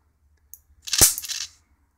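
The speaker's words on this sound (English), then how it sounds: "Every now and again you hear it come in with the plasma sort of sound." High-voltage arc from the flyback of a Mitsubishi CRT monitor under test, a single sharp crackling snap after a faint tick, brief and close, then silence.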